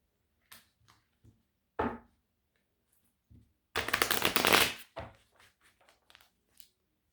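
Tarot cards are drawn and shuffled close by: a few soft flicks and taps, then one loud, dense riffle lasting about a second, followed by lighter card handling.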